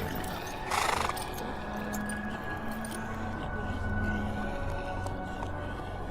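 A horse whinnies briefly near the start, then faint hoof clatter and clinking tack continue under a narrator's steady speech, all quiet and mixed low as an audiobook effect.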